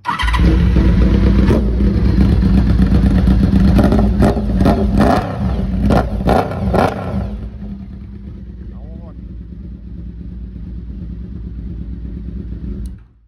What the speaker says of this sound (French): Sans l'échappement, ça fait un bruit sympa, hein.